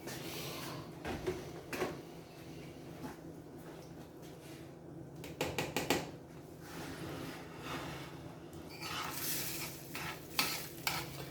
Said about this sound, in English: You want to scramble the eggs first.